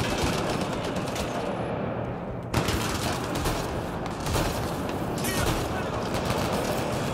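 Shotgun blasts in the sci-fi shooter Mass Effect Andromeda, online multiplayer at Firebase Derelict, dense bursts of gunfire packed into a continuous loud barrage over battle noise with a voice talking throughout.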